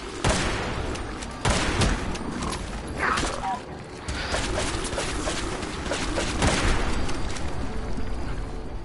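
Gunfire in Fallout 4 sounds as a run of loud, dense shots and mechanical clatter that carries through the whole stretch, layered over game ambience.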